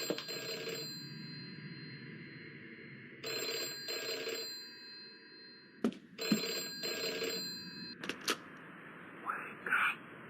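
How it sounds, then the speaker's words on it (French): Telephone ringing in a creepy flash horror game: a bright electronic bell rings in several separate bursts with short pauses between them, along with a few faint clicks and other game sounds. "Dès lors que nous quittons la chambre, une sonnerie de téléphone retentit."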